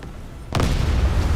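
In a naval warfare video game, a shell strikes a ship with a single sudden, loud boom that breaks a near-silent moment and leaves a heavy rumbling roar behind it.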